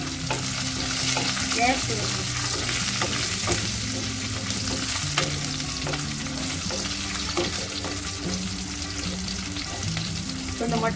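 Chopped small shallots frying in a pan for a South Indian mutton dish, a loud, continuous sizzle with frequent stirring clatter and no talk over it.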